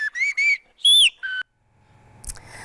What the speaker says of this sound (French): rien ne vaut siffler en plein air, dans l'espoir bientôt que des jeunes leur répondent de l'autre côté de la vallée